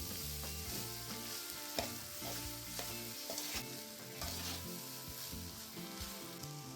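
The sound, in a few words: stirring rice with vegetables in a pan for veg pulao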